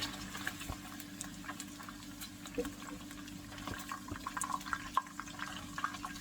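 Steady sizzling and crackling of meat on the bone frying in a pan, with small pops scattered throughout, close and moderately loud.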